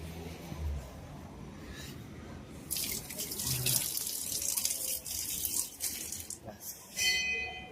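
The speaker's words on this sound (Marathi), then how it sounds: "आता हात धुवून घेतो. असं तेल लागले हाताला" Water runs from a tap as a person washes oily hands at a Hanuman temple, a steady broadband splashing stream that starts partway in and continues with a brief drop and resurgence, close and moderately loud.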